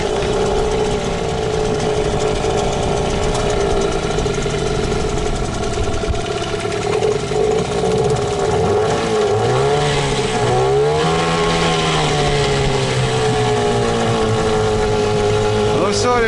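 Gladiator E 380 R motorboat with its outboard engine started and running, a steady loud mechanical drone with rising revs partway through, close by and over constant background noise.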